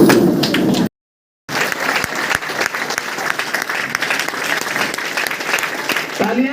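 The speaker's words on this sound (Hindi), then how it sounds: "तालियां जबरदस्त बजनी चाहिए दोस्तों।" Loud, dense applause from a large audience at a meeting hall fills the clip, broken by a short silent gap, then continues steadily; the clapping of many hands is close and sustained.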